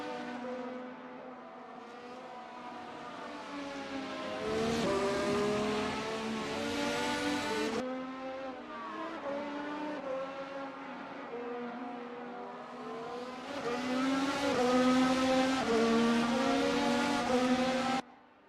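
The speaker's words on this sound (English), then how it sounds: "Ryan Earl and Moises both come down pit road on lap 14 of this 47-lap race" Several race cars in a racing video game drive down pit road at Interlagos, their engines droning and revving with shifting pitch, swelling louder toward the end before cutting off abruptly.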